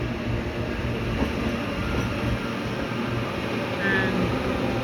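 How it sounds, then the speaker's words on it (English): An AM class electric multiple-unit train arrives at Ōtāhuhu station in Auckland with a continuous low rumble of wheels and motors, a faint squeal partway through, close and steady throughout. "This is AM 238 arriving"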